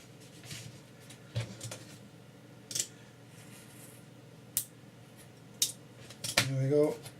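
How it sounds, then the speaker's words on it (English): Scissors snipping the small end pieces off a cardboard box, with a handful of sharp, separate cuts scattered over several seconds, close up, followed by a brief rustle of the material. "so I'll cut the two little end bits off"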